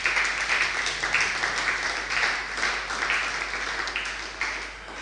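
A church congregation applauds to acclaim the Lord, a steady, sustained wash of many hands clapping with rhythmic swells, fairly distant and without clear speech.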